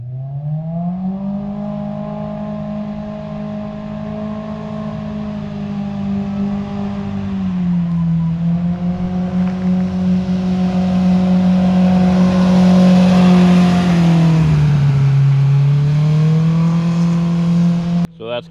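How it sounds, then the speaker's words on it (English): A motorcycle with a Bikeman center exit muffler, stock with no quiet core, drives by at about 25–30 mph, its steady engine drone swelling louder as it nears and then dropping in pitch as it passes. "I think we're gonna do about a 25-30 mile-an-hour drive-by."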